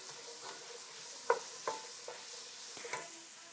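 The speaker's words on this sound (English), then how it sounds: "I've got my onions and my garlic, 4 cloves of garlic, warming up and cooking down in 2 tablespoons of olive oil." Onions and four cloves of garlic cooking down in two tablespoons of olive oil for spaghetti sauce, with a soft sizzle under a few distinct scraping stirs of a wooden spoon, fairly quiet and close, no talking.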